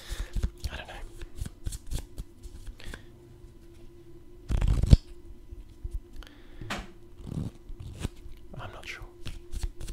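Magic trading cards handled and shuffled up close in a quiet room, soft scattered flicks and riffles with one louder burst midway, under a soft-spoken voice.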